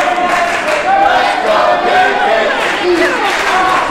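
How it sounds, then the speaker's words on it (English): Crowd at an SWA Wrestling independent wrestling show cheering and shouting to fire up a wrestler, a dense, loud and continuous roar of many voices close by, with individual shouts rising out of it throughout. "Crowd fired up for Pancakes."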